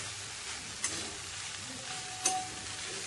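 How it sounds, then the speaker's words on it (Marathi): Poha stirred gently in a hot pan on high heat, a steady sizzle of frying with a couple of brief spatula scrapes, close and continuous. "पोहे फक्त असं साईडने परतवायचं आहे"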